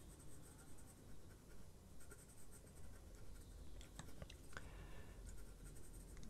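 9B pencil scratching and scribbling across paper in a steady, close, continuous rasp, with a few sharper strokes partway through.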